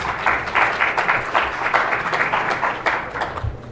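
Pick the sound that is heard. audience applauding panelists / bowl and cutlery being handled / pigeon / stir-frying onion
audience applauding panelists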